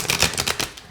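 Cards of an oracle deck riffle quickly in a rapid burst of crisp, papery flutters, close and fairly loud, lasting about a second.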